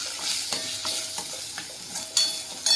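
Pav bhaji masala with turmeric and salt sautés in a pan, the spatula scraping in regular strokes over a bright, close sizzle, with two sharper scrapes toward the end.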